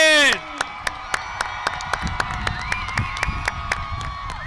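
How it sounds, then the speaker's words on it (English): Class of 2025 graduates at a high school commencement receive scattered clapping, whoops and crowd cheering with distinct sharp individual claps, after a brief voice cuts off at the start; shouts and excited voices mingle throughout. "give one more loud and proud applause to these amazing young men and women"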